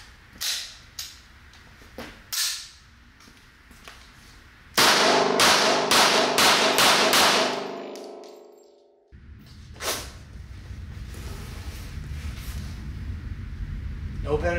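Three CCI full metal jacket rounds and three 180-grain Gold Dot hollow points are fired at body armor on a range at 40, sharp cracks at first, then a loud rapid string of shots that rings out before fading, with people talking.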